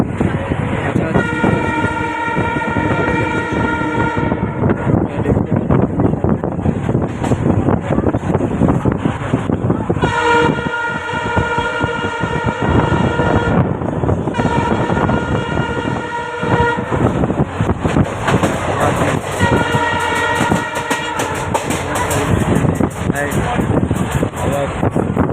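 A train pulls out of Kamakhya station, its horn sounding loud and close in several long blasts over the rumble and clatter of the moving carriages.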